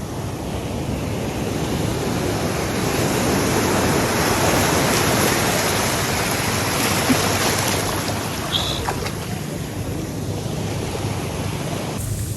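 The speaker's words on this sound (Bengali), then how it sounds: "অনেক বড় ঢেউ।" Loud, continuous ocean surf at Cox's Bazar beach rumbles and rushes, large waves breaking in a sustained wash that swells slightly in the middle before easing.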